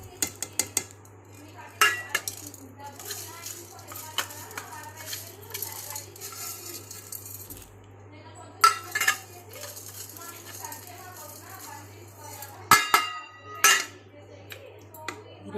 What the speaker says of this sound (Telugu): మంచిగా ఒకసారి తిప్పుకోండి